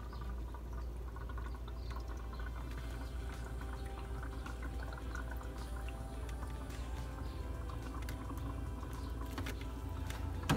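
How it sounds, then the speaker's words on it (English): Tap water poured to top off the reservoir of an Aerogarden, a faint, steady trickle and splash running continuously under a low background hum. "So I'm just topping off the water level."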